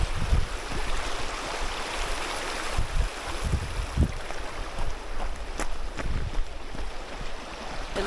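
Stream water flows steadily on a solo bikepacking trip, a continuous close rush and gurgle with low splashy bumps throughout, no voices.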